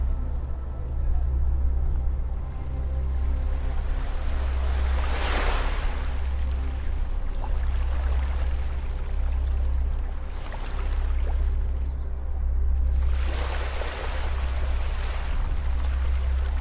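Gentle ocean waves wash onto a beach shore. Soft surges of surf swell and recede at a slow rhythm over a constant low rumble of water and wind.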